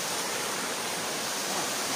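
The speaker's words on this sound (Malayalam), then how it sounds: "സൈരന്ധ്രിയുടെ കാട്ടിനുള്ളിലുള്ളൊരു വെള്ളച്ചാട്ടമാണ്." Waterfall inside the Sairandhri forest of Silent Valley, a steady, even broadband rush of falling water filling the space without a break, no voices.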